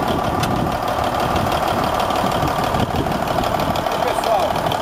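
A Volvo VN770 truck's 475 HP Cummins N14 diesel engine idles with a steady, close, loud rumble and faint rhythmic knock, running unbroken throughout.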